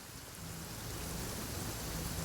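Rain falling in the video game Genshin Impact, a steady broadband hiss of downpour that swells slightly, heard alone without talk.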